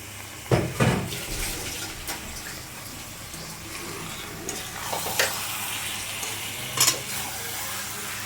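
Mutton fries with spices in a pan for mutton kosha, a steady moderate sizzle punctuated by several scraping, clinking stirs of a spoon against the pan.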